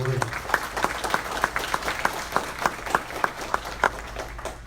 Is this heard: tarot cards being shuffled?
no